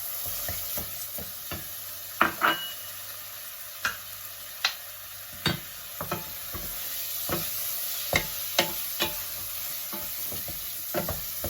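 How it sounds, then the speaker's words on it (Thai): Rice being stir-fried in a pan for a mushroom risotto, with repeated sharp scraping and tapping strokes of a spoon over a steady soft sizzle, close and fairly quiet, no voices. "แล้วก็เอามาผัดให้หอมค่ะ ผัดพร้อมกับเข่าค่ะ"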